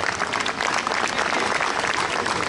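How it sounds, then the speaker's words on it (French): Audience at a ceremonial event in Nîmes applauding: dense, continuous clapping from a large crowd, loud and steady throughout with no gaps. "Sous vos applaudissements, bien sûr"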